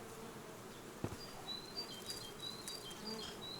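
Honeybees hum steadily at an opened hive being inspected, a soft, close buzz with occasional louder passes of single bees near the microphone and a brief knock partway through.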